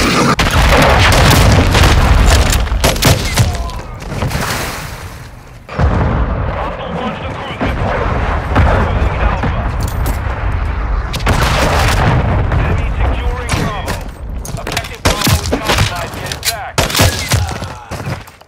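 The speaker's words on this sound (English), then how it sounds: "Friendly cruise missile deployed." Cruise missile strikes in Call of Duty: Modern Warfare III set off heavy, rumbling booms and rolling blasts that stay loud almost throughout, with brief dips between impacts and game voices talking underneath.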